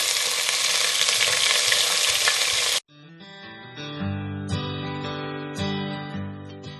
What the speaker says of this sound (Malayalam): വെളിച്ചെണ്ണ ചൂടായിട്ടുണ്ട്. അപ്പോൾ നമുക്ക് ആദ്യം തന്നെ ഒരു ടീസ്പൂൺ കടുക് ഇടാം.